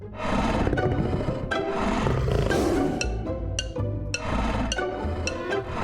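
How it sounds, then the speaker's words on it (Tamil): Tiger roaring loudly and continuously, with deep, rumbling roars repeating alone across the whole stretch, close and dominant, with no talking over it. "பாரு, ஒரு புலி."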